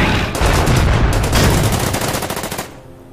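Gunfire aimed at a tank in the Order of Battle Winter War strategy game, a dense burst of rapid shots and blasts lasting about two and a half seconds before cutting off abruptly.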